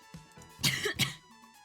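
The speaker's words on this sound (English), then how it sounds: "first cough, there we go, it begins" A person gives a couple of quick, close coughs with some throat clearing, two distinct bursts about half a second apart against a quiet room with faint background hum.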